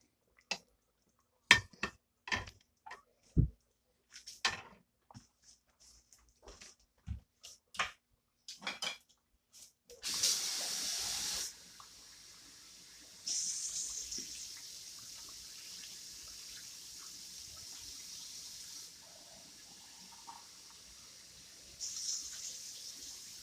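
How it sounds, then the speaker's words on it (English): Water poured into a cooking pot of simmering pork tails, following a run of sharp clinks and knocks from pots and utensils, then a soft steady splashing stream that stops and briefly resumes, close and fairly quiet. "I'm just going to put a little bit more water over them."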